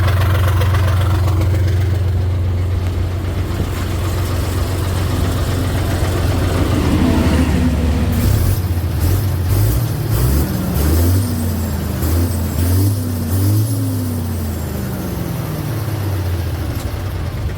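Close-up idle of an Isuzu Deca 320 truck engine, a steady low rumble that after several seconds gives way to repeated throttle blips, the revs rising and falling in pitch a few times before settling again.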